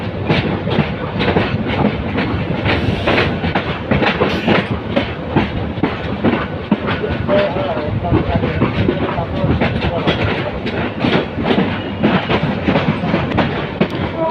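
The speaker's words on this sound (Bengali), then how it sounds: "কমলাপুর রেল স্টেশন থেকে বেরিয়ে তার আউটার অতিক্রম করে যাচ্ছে" A train leaving Kamalapur railway station in Dhaka passes the outer yard. A loud, steady rhythm of wheels clacking over rail joints continues close by throughout.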